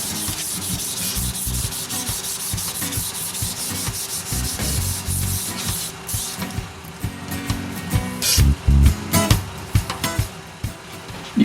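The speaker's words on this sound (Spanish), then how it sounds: "aliso la superficie con una lija de grano 220 y otra de grano 320" Steady back-and-forth scraping of 220 and 320 grit sandpaper smoothing a hardened epoxy putty box with threads, continuous close rubbing strokes that grow more uneven and punchy toward the end.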